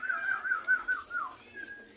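Pigeons inside a loft, a soft warbling call repeated in quick pulses, faint and close, with light rustling and no voices.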